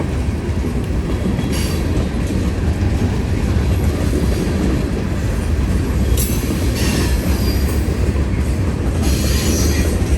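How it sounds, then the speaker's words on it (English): A train rumbles past close by, a loud steady roar of rolling wheels with occasional metallic squeals and rattles. "Got a nice train going through here."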